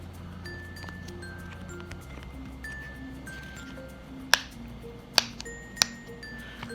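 Bubble pop fidget toy pressed repeatedly, giving a run of soft clicks and pops in an uneven rhythm, with three sharper, louder snaps toward the end over a quiet room background.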